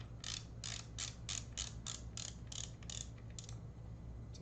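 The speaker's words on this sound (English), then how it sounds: "The ratcheting motion was pretty satisfying" The ratchet dial on a Quest 2 VR head strap is turned, giving a quick series of about a dozen sharp, close clicks over a low background hum.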